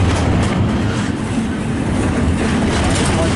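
Heavily loaded freight train rolling past close by, a steady loud rumble and rail clatter that holds throughout without a break.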